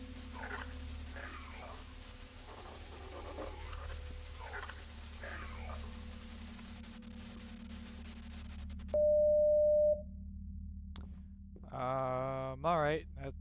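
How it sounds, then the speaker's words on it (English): Croaking, guttural demonic noises over a low drone in the horror game Home Sweet Home, then a sustained phone tone and a wavering, warbling electronic ring near the end, loud and close. "The phone ends up ringing and you can just hear these demonic noises."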